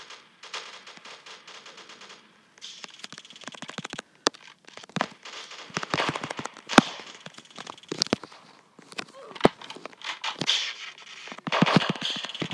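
Gunfire in the Roblox game Prison Life: scattered sharp shots and short rapid bursts, some loud and close, others quicker and lighter, with brief quiet gaps between volleys.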